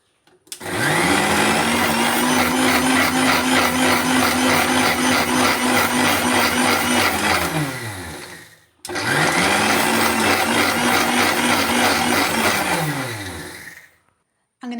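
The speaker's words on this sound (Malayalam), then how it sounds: "ഒരു മിക്സിയുടെ ജാറിലേക്കിട്ട് നമുക്കൊന്നത് ഫൈൻ പരുവത്തിൽ അരിച്ചെടുക്കാം." A mixer grinder jar whirs loudly as it grinds semolina (rava) fine, a steady high-pitched motor roar that runs about eight seconds, stops briefly, then starts again for a second long burst.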